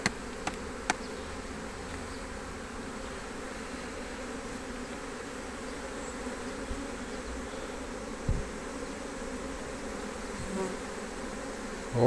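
Honeybees fill an open hive during an inspection of the main brood box that holds the queen. A steady, soft buzzing hum continues throughout, with a few faint clicks and no speech.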